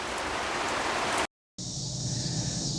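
Steady heavy rain hisses close by, cut by a brief moment of silence before the downpour continues with a slightly different tone.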